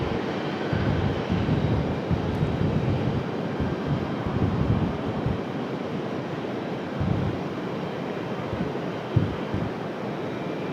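A jet airliner rolls and climbs from runway 23 left at Raleigh-Durham International, a steady broad engine roar heard from a distance, with wind noise throughout.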